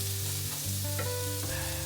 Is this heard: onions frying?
yes